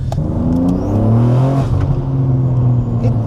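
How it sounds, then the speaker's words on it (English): A BMW G8X M3 engine with a decat downpipe revs hard with a raspy, loud exhaust note. The roar rises and holds steady, close by, with no talking. "they just sound very like raspy, just a bit too loud for a nice car"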